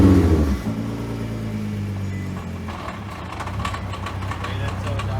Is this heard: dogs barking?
no